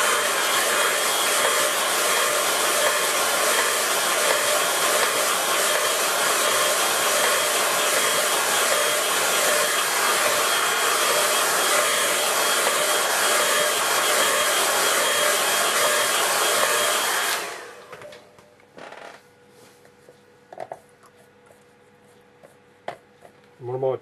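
A hair dryer blows on a wet watercolour painting with a loud, steady whooshing roar for about seventeen seconds, then cuts off, leaving quiet room sound with a few faint taps.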